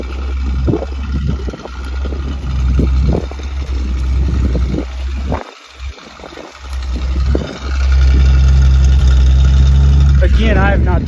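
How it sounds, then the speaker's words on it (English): A 1973 Ford Maverick engine idles nearby with a rough, puffing exhaust note from an exhaust leak, briefly dipping then settling into a louder steady rumble while people talk. "we got a heck of an exhaust leak here"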